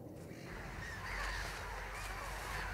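Seagulls calling at a public rubbish dump, harsh cries over a steady, dense wash of outdoor noise.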